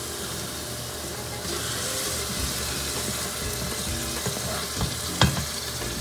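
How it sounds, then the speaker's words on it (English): Chopped tomatoes and onion sauté in a pan, giving a steady, close sizzle that runs throughout with faint stirring scrapes and a brief clatter near the end; no one talks. "You have to saute this really well. Cook these tomatoes and onion"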